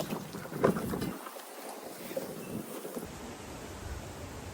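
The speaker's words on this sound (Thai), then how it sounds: "มาแล้วลมมาแล้วค่ะ ฝนจะตกแล้ว" Gusty wind before rain rushes across the microphone at an outdoor flea market in Zephyrhills, a broad steady roar that swells and dips with a few louder buffets.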